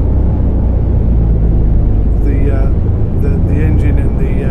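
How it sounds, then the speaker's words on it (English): Setra S 515 coach in Fernbus Simulator, a heavy, steady engine rumble as the bus brakes and slows, with a faint brake hiss and a voice speaking in the background. "engine and the brakes trying to slow it down. It sounds brilliant."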